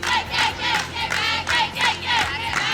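A softball team chants a rhythmic dugout cheer, voices rising and falling in about five loud bursts with claps filling the beats between them.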